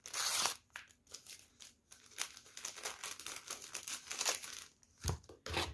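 A small paper packet of vanillin torn open and crinkled while making cookie dough at home: close, crisp crackling and tearing rustles that continue through the clip, with a sharper rip near the end, no talk.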